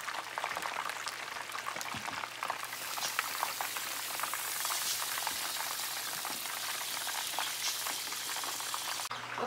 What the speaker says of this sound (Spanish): Las vamos a sofreír para que estén doraditas, para cuando las pongamos en la salsa.